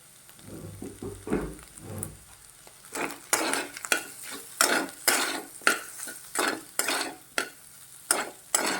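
Potatoes sautéing in a kadhai with salt and peanut powder for a Navratri fasting dish, with a quiet sizzle and a steady run of rhythmic spatula scrapes and stirs against the pan.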